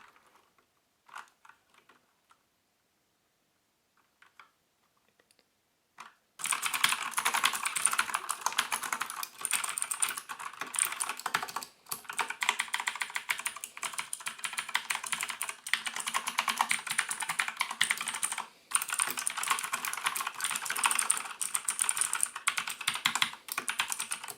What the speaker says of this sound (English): let me quickly show you for some perspective my hands on the keyboard